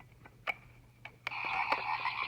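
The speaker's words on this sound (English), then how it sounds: "Frogs." Frog croaks played through the small, worn speaker of an old Timex alarm clock, a few sharp isolated calls followed by a denser chorus of croaking, thin and tinny at close range.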